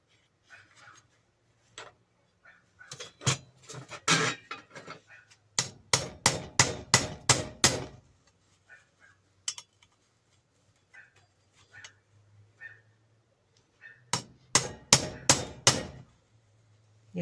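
Hammer blows on metal while trying to shift a stuck part, struck in several rapid bursts of sharp, loud, ringing hits with brief pauses between, close by.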